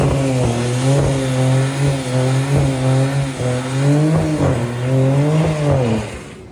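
A 2026 Dodge Charger Scat Pack muscle car revs loudly and close up, its engine note rising and falling in repeated throttle blips with a deep, steady burble between them and no voices.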